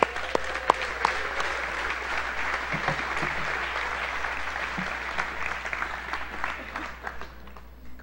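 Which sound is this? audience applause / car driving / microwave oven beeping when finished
audience applause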